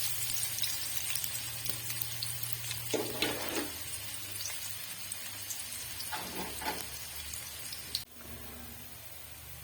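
Chopped onions hit hot ghee in a pan for a fish curry, giving a steady soft sizzle and crackle with a few louder spits and stirring scrapes, close by and with no talk.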